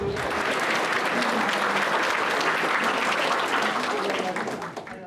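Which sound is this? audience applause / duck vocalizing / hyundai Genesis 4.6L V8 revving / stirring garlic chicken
audience applause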